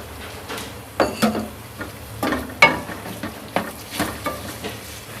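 Two medium-size tomatoes go into a pan of frying garlic and ginger, giving a series of sharp clattering stirs and clinks against the pan over a low sizzle, with no talking.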